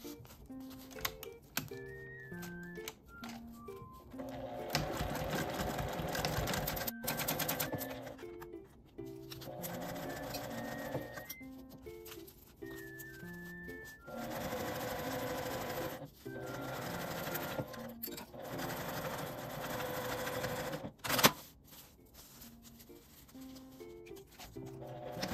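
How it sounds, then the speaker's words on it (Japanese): A sewing machine stitches an aluminium Daiso cooler bag in fast whirring runs, stopping and restarting several times with short pauses between seams, steady and fairly close. "動かしてクリップで留めて縫います。"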